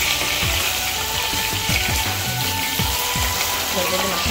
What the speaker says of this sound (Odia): ମଟନ ଭାଜିକି ରଖିଦେଇ ଆମେ ମାଛ ଭାଜିବା